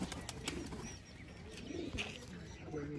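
Pigeons released from a rooftop loft flutter upward with brief bursts of wing flapping and a few faint coos, quiet and close, over low outdoor background.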